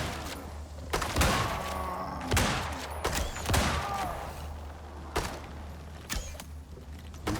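Gunfire in the survival video game Icarus: several sharp shots burst out at irregular intervals over a constant low hum.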